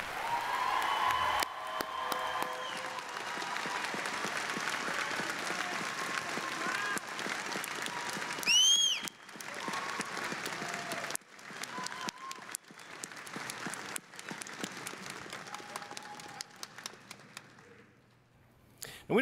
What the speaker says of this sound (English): let's give them a round of applause and thank them for their outstanding efforts